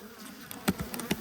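A low, even hum of honey bees rises from an opened beehive, with a few soft knocks and handling sounds breaking through near the end.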